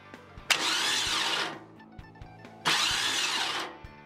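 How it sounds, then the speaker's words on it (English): A Summit Racing mini high-torque GM starter motor, jumped across the solenoid terminals on a bench, runs in two separate bursts of about one second each. Each burst is a loud, high whirring spin-up, and faint clicks and taps sound in between. "So now the starter operates properly."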